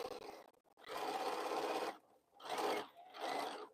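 Sewing machine stitching quilt seams in three separate bursts, the first about a second long and two shorter runs after it, each a steady close whir with brief quiet gaps between.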